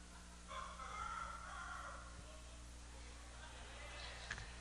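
A man imitates a rooster crowing with his voice, one drawn-out hoarse call at moderate distance, over a steady room hum and faint background noise in a church gathering.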